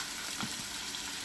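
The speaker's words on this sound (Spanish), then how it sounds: "Aquí tengo aceite en el sartén y vamos a poner nuestras piezas de pollo." Chicken legs frying in oil in a pan, giving a steady, dense sizzle with small crackles throughout the short stretch, no talking.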